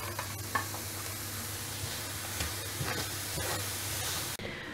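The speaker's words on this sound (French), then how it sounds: "Donc là j'ai mes oignons qui sont en train de cuire" Onions sizzle steadily in a pan as green beans are tipped in and stirred, a hissing, crackling fry with scraping stirs under a low hum, ending in a sudden drop to near quiet.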